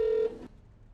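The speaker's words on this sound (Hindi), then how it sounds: "जी हाँ, कीजिए, अभी फोन कीजिए।" Dialing tone on a speakerphone before a call, a single steady beep held briefly and then cut off into near silence, close and clear with no speech.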